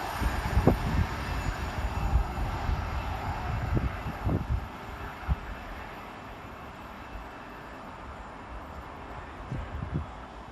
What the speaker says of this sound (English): Flying past through the station is 331003 and 331018